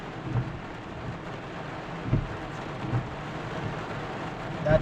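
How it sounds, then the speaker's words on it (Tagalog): Heavy rain pours in Riyadh, Saudi Arabia, as a steady close hiss, broken by several low rumbles of thunder. "Ngayon ko lang naranasan ngayon guys na malakas ang ulan."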